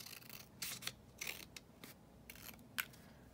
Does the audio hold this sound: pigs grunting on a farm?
no